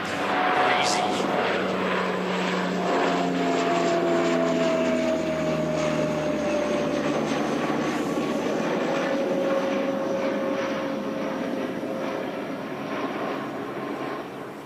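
A Dash 8 turboprop airliner takes off at Christchurch Airport, its loud propeller drone sustained and slowly falling in pitch as it climbs away, with no talk over the engine noise.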